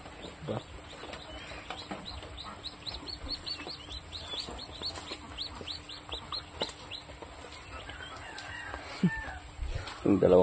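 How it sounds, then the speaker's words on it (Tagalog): A backyard flock of laying hens and chicks gives off repeated short clucks and chirps in a steady run over constant background hum, with a brief louder flurry near the end. "Sisipag ng itlog yung mga manok natin ngayon."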